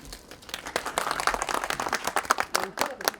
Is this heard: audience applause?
yes